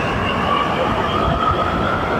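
Mumbai metro train standing at a station, a steady, loud rumble and mechanical hum that holds evenly through the whole short stretch with no pause.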